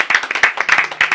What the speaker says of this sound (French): avec des acclamations